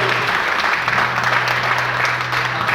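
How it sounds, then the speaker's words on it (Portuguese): A church congregation applauds loudly and steadily, a dense wash of clapping filling the room throughout, with a low steady hum beneath it. "Você pode aplaudir o Senhor bem forte."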